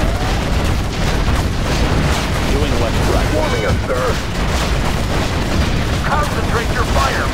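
Artillery and gunfire explosions in Command and Conquer Generals Zero Hour at the Iran oil fields battle, a continuous loud barrage of booms and rattling shots under brief radio-style unit voices.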